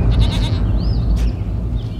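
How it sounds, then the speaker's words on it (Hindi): Goats bleating at a busy livestock market, a few short bleats over a constant loud rumble of crowd and background noise. "खस्सी बकरी बिकाए खस्सी बकरे"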